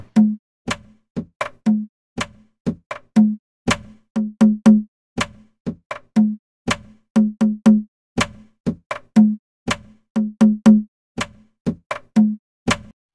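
Sharp clicks and deep thumping electronic drum hits from an analog sequencer loop in a steady pattern, the low hits sometimes doubled or tripled in quick bursts as a short fill at the pattern's end, with no speech.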